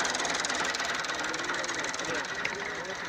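A small three-cylinder tractor engine runs with a rapid, rhythmic chugging and knocking pulse, close and steady, with voices talking over it on a dairy farm.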